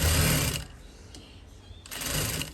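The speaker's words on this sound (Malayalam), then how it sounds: "എന്നിട്ട് ഇതിങ്ങനെ മടക്കി ഒന്ന് തയ്ച്ച് എടുത്താൽ മതി ഇങ്ങനെയൊന്ന് മുടക്കി മുടക്കി ഇത് തയ്ക്കുക" Sewing machine stitching folded fabric for a nightie: a loud, close whirring burst, a brief lull of softer mechanical noise, then a second run of stitching.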